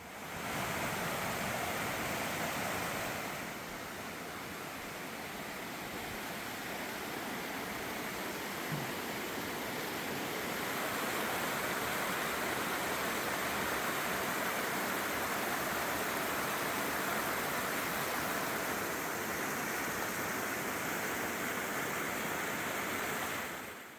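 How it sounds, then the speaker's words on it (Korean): A compact mountain valley stream at Guknyeongsa near Wonju rushes strongly, a continuous dense roar of flowing water heard close and steady throughout, with no voices. "국형사 계곡은 아담한 듯 하면서도 물의 기세는 제법 센 것 같습니다."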